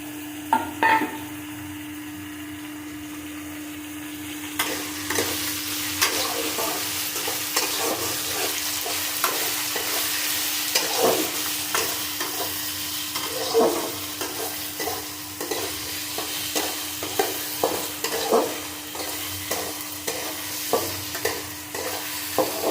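Vegetables stir-fried with tomato and salt for vegetarian chowmein, a continuous sizzle in a pan with a steady hum beneath and a rhythmic run of spatula scrapes and knocks that quickens in the second half.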